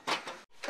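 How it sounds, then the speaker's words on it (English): A locked door is tried: its handle is pulled and rattled in a quick burst, a brief pause, then another shove against the frame, close and fairly loud. "Oh, no, the door's locked."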